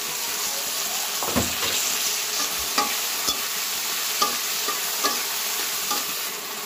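Prawns with onion and tomato frying in a pan, a continuous bright sizzle with periodic scraping strokes of a spatula, close and fairly loud.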